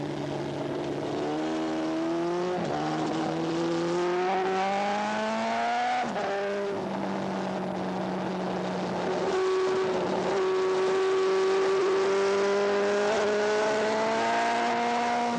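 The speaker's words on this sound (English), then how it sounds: "Now I'm accelerating hard up the back hill." A superbike engine screams as it accelerates hard up a hill on a race track. It is a loud, continuous high-revving whine that climbs in pitch through successive gears, with brief dips at each shift.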